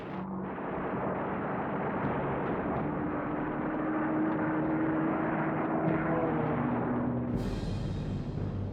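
Steady, droning roar of WWII US Army Air Force bombers flying overhead, a dense continuous engine hum with faint tonal whine, ending in a sharp burst of higher noise.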